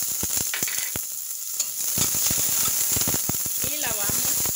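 Chopped onion hits hot oil in a pan, giving a steady frying sizzle with crackling pops and stirring clatter, while someone talks over it.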